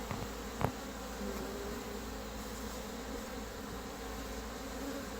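Honey bees swarming around an open hive while a beekeeper inspects frames for queen cells, a continuous close, steady buzzing drone with one sharp knock near the start and no talking.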